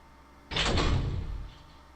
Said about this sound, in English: I heard the sound of a heavily locked door opening